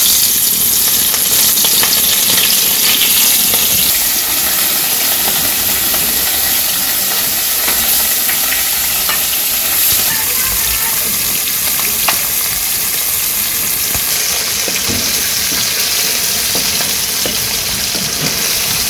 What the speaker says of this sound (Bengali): তেল গরম হয়ে গেছে, মাছগুলা দিয়ে দিই।